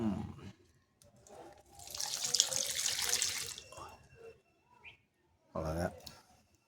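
Water is poured onto a hibiscus plant in a close, splashing stream lasting a few seconds, with birds calling in the background and brief voices.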